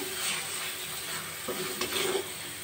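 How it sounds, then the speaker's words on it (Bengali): Chhena mixture is stirred in a pan over a raised gas flame, a short burst of close scraping strokes over a soft steady sizzle, with no voices. "গ্যাসের ফ্লেমটা বাড়িয়ে 2 মিনিট ভালো করে আমি নাড়াচাড়া করে নিলাম।"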